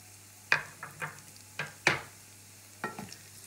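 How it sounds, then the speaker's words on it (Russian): Finely chopped garlic, about six cloves, fries in chicken pan juices in a skillet, a soft sizzle under several sharp scrapes and clinks of stirring at an uneven pace. "И даю чесночку так хорошенько смешаться со всеми соками в сковородке и обжариться до такого золотистенького цвета."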